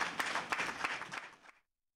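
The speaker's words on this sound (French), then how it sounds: "Merci d'applaudir." An audience claps at a Beninese news event, a short burst of scattered, close-sounding claps that thins out and stops abruptly after about a second and a half.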